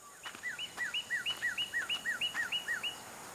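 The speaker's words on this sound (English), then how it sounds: "And she often hears the call of the northern cardinal." A northern cardinal repeats a clear, slurred whistled note about a dozen times in a steady rhythm, bright and fairly close against a quiet background hiss.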